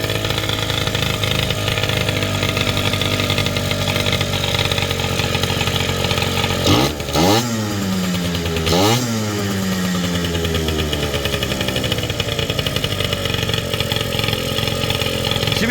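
A Kymco Super 8 moped's 70cc Polini two-stroke engine runs steadily and buzzy up close, making a weird noise, with two quick revs that rise and fall in pitch midway through.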